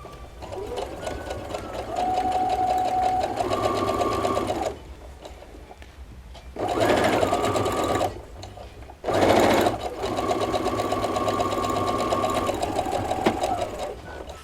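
A sewing machine runs in three long stitching bursts, steady and close, as fabric strips are joined for a Seminole border on a tea towel, with short quiet pauses between runs.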